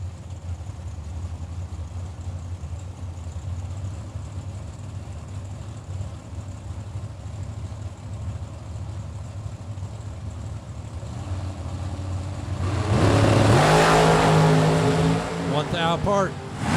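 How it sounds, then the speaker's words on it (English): A small blower dragster at a drag strip, a low steady engine rumble that swells into a loud rising roar as it accelerates near the end, with a commentator talking over it. "Little baby blower dragster."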